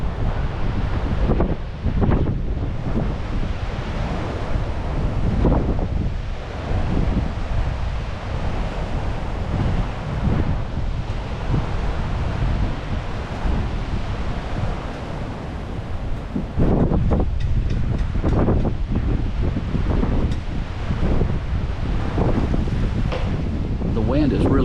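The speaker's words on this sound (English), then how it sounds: "The wind is really kicking today." Strong wind batters the microphone on the beachfront at Orange Beach, a constant heavy roar with gusty surges and surf washing underneath for the whole stretch.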